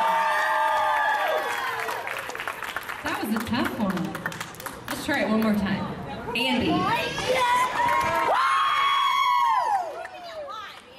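Spectators at a charity walk event cheer a contestant, with bursts of high whoops, yells and clapping rising and falling in waves, close and loud, and an announcer's voice briefly heard between the outbursts.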